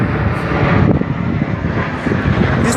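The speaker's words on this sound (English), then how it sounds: "As the planes come in" Aircraft engines roar steadily as airplanes come in to land near a mountain in Arizona, a loud continuous rumble heard from a distance with some wind buffeting and no talking.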